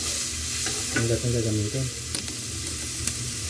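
Onion sautéing in a pan, a steady close sizzle with scraping stirring strokes and a couple of light clinks, while a person talks briefly over it.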